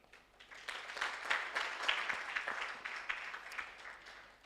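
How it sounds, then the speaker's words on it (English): An audience at a public policy forum claps for a high-level panel, a fairly faint, distant patter of many hands that swells slightly mid-way and then carries on evenly. "I want us to give a round of applause to the panel"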